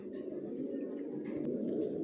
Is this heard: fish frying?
no